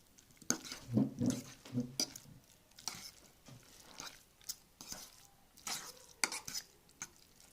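A fork stirs a potato and fish gratin mixture in a dish, making soft scraping and clinking strokes in uneven bursts, quiet and close, with light wet squelches between them.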